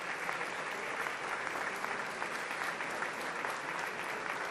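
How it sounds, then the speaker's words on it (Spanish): Audience applause at the inaugural ceremony marking the centenary of the Confederación Hidrográfica del Segura, a steady dense clapping that holds at even strength for several seconds with no voices over it. "Fuerte el aplauso"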